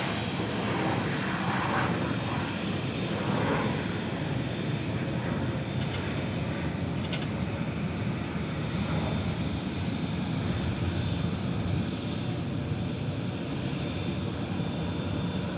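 A FedEx heavy jet at Memphis International Airport's FedEx hub produces a steady, broad rumbling roar that holds evenly throughout, without voices.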